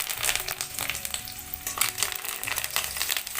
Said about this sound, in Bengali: তারপরে দিয়ে দিচ্ছি 1 টেবিল চামচ পরিমাণ কালো সরিষা। আর এখানে নিয়েছি কারি পাতা। কারি পাতাগুলোকে এর মধ্যে দিয়ে দেব।